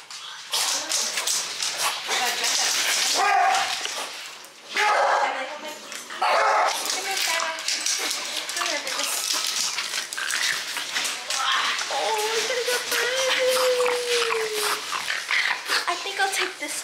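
A newly adopted dog barks and whimpers up close, with yips and a drawn-out whine, while people talk loudly over it throughout.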